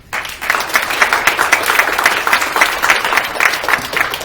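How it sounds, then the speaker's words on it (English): Steady applause from an audience, a dense patter of many hands clapping that starts abruptly and holds at an even level throughout. "So give them a round of applause."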